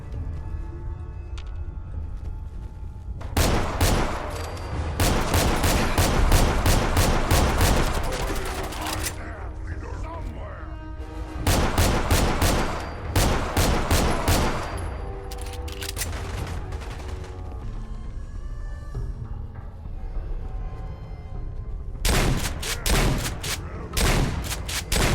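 Loud rapid gunfire in Fallout 4 comes in several sustained bursts of repeated shots separated by quieter pauses, near and harsh, with some talk in between.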